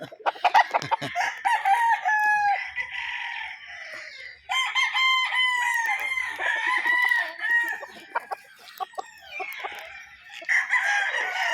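Several roosters crowing one after another, loud and close, with hens clucking between the crows and no talking.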